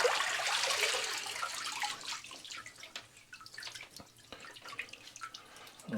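Freshly washed items drip over a sink or tub, starting with a brief watery rush and then thinning into scattered, irregular drips and small splashes, quiet and close, with no talk.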